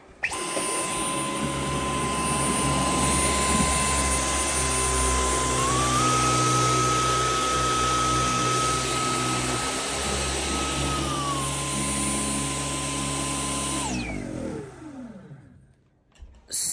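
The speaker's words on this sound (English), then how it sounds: "you can hear the difference in the vacuum of like, as soon as I went onto that little bit of carpet" Dyson V11 Outsize cordless vacuum running steadily on hardwood, its motor pitch stepping up and whining harder as it crosses onto a patch of carpet, then dropping back before shutting off; close, loud and continuous with no talking.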